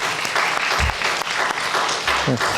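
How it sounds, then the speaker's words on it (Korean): A church congregation at a Sunday service claps to welcome a returning high-school member, giving dense, steady applause from start to finish, with a couple of brief low voice murmurs underneath. "우리 박수로 환영하겠습니다."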